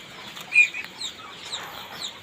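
Farm ducks and chickens on a rural homestead give scattered, fairly faint clucks and short calls, with a brief burst of wing flapping near the start, over quiet outdoor ambience.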